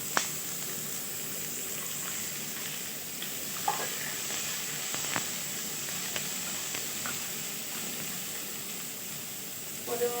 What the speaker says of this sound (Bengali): আমি এইভাবে সবজিটা ভেজে নিয়েছি।